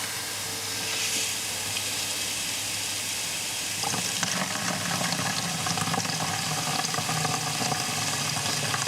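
Old fuel drains from the fuel inlet line of a barn-find BMW left sitting 30 years, a steady close hissing trickle that turns louder and more splattery partway through, with no talk.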